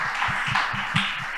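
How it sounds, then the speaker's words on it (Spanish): Brief clapping from a panel audience at a business event, a handful of quick, rhythmic claps heard fairly faintly in a room. "un aplauso para Francisco, para todos."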